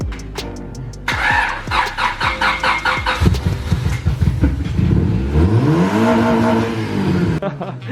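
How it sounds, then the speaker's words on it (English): A Honda Civic engine cranks and catches, then revs hard in repeated rising and falling bursts, loud and close, with a voice talking over part of it. "I've been told there's only one way to start up a Honda."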